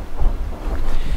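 Strong, cold wind outdoors in a nearly empty car park buffets the microphone, producing a loud, rumbling gusty roar that swells and dips over the short stretch, with no voices.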